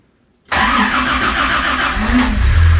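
After a moment of silence, an engine cranks and catches abruptly on its first startup with the choke on, then settles into a loud, rough, steady idle close by, with a slight rise near the end.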